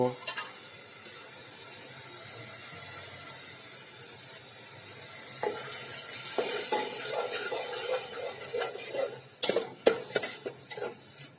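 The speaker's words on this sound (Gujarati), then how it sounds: "ટમેટા મરચાં લીલું લસણ પણ ઉમેરી દઈશું કારણ કે તેને પણ સાથે સાથે આપણે સરસ રીતે તેલની અંદર બાફી લેવાનું છે" Tomatoes, chillies and green garlic cook in oil in a pan, giving a soft, continuous sizzle, with stirring and scraping of a spoon against the pot growing busier later, including a couple of sharp metallic clinks.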